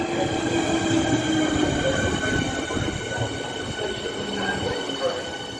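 A train at a railway station, a loud, steady rumble of wagons rolling past with high metallic wheel squeal tones sustained throughout, close by.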